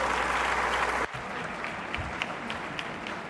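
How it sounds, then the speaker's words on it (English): Audience applause in a lecture hall after a keynote talk, a dense loud clatter of many hands for about a second, then cutting to a quieter room with scattered lingering claps and faint murmur. "Fuerte, fuerte el aplauso para Jorge, para Patrick."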